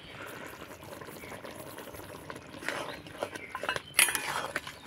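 Gram flour (besan) and semolina are stirred in a bowl, making soft scraping and clinking that starts quiet and builds to sharper metallic knocks near the end.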